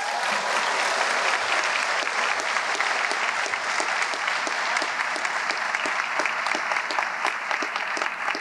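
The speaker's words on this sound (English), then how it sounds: "One more round of applause, please, for our new scholarship donors." A packed audience at a high school senior awards night applauds scholarship winners. Dense, steady clapping runs without a break for the whole stretch, with no talk over it.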